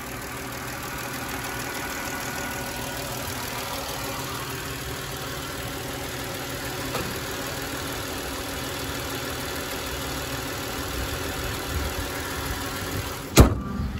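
A 2014 Dodge Charger, a former marked police car, idles with a steady, even engine hum that runs unbroken throughout, with one sharp click near the end and no voices.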